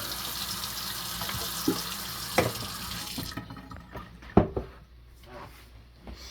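Tap water runs steadily for about three seconds with a few clinks, then stops, leaving quiet kitchen handling noises.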